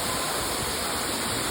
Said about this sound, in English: But I love the water feature.